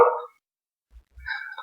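A dog barks once sharply, then a second fainter, rougher burst follows after a pause of about a second; nearby, loud, with no talking.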